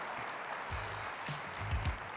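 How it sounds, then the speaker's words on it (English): Applause from a crowd for the mayor at a community report event, a steady wash of clapping with some voices faintly underneath. "How about a round of applause for the mayor, please?"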